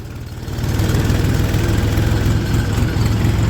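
A Mahindra tractor engine runs steadily on a foggy morning sugarcane haul, a loud low rhythmic diesel thump that swells in the first half second and then holds close and constant.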